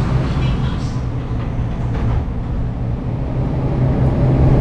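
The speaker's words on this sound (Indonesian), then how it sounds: "kita naik kereta KRL Komuter Lain ini ya" Inside a moving KRL commuter train departing Cikarang station, a loud, steady rumble of wheels on the rails continues throughout, with faint rhythmic clacking.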